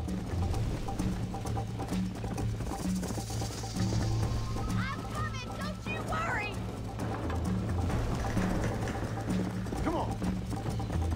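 Horse hooves clip-clop steadily in a Red Dead Redemption ride, with a horse whinnying briefly as characters talk over the hoofbeats and background game music.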